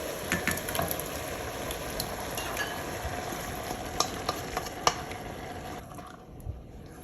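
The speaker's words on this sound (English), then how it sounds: "I'm gonna give a quick stir here first" Beef with tomato sauce being stirred in a cooking pan, a steady scraping and wet churning that runs continuously with soft clinks, close and moderately loud, with no talking.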